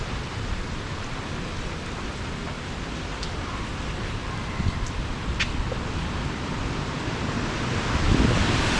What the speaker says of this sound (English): you'll be able to hear the wind on this mic because it's not covered